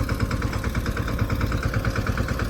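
A Saurashtra mini tractor runs in a farm field while shaping ridges, its engine throbbing in a fast, even pulse, close and steady for the whole moment.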